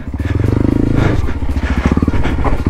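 A motorcycle rides over a rocky trail, its engine pulsing loud and close in rapid thumps, rising and falling as it works over the stones with some clattering.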